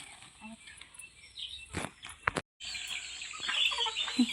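Chickens clucking on a farm, with short bird calls scattered over low background noise; a brief gap of silence midway and a voice faintly present.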